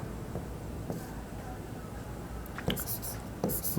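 A pen scratches across paper while an accounting journal entry is written out, soft strokes and occasional light taps over a low steady room hiss, close and quiet.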